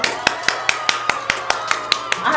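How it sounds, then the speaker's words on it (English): Steady hand clapping from one person, about ten sharp claps in an even rhythm, close and fairly loud, with a faint background hum and no voices. "I have to clap"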